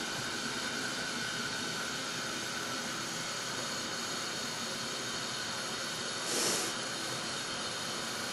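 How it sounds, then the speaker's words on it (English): Potatoes boiling in salted water in a pot, a steady broadband hiss and rumble of rolling water that holds even throughout, with one brief louder surge near the end and no talking. "And we boil them."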